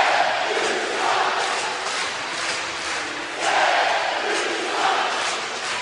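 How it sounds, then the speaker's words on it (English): Hockey arena crowd roars after a last-second game-tying goal by St. Cloud State, a dense, loud wash of cheering and yelling that swells and surges in waves. "Listen to this crowd."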